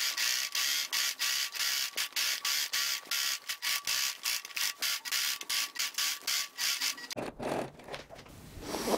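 A sewing machine stitches around the edge of a tote bag in quick rhythmic bursts of mechanical clatter, stopping and starting repeatedly, then giving way to softer rustling of fabric being handled.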